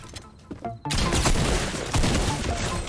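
Rapid gunfire from a blue pump shotgun and other weapons in a Fortnite match, a dense loud fusillade after a brief quieter lead-in, with no voices over it.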